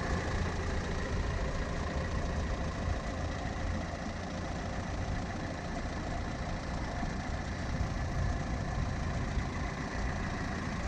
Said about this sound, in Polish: Silnik pracuje prawidłowo.